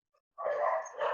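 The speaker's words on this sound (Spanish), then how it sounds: "Perdonen la bulla de los perros." Dogs bark in one sustained, loud burst close by, with a brief pause before a second bark, during an evening church talk.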